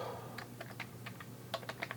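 Quick bursts of keystrokes on a computer keyboard as a password is entered into a Raspberry Pi, a short run of crisp, close clicks over a faint low hum.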